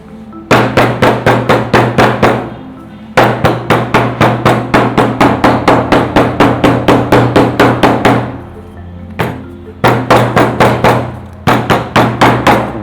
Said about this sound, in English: So you have to hammer the edge round.